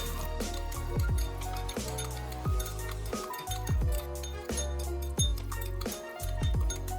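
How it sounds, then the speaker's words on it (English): Indomie seasoning gets stirred into hot oil, with repeated clinking and scraping of a utensil against a bowl in an uneven rhythm, close and fairly loud. "While the oil is hot, just dump it the seasoning and then mix it."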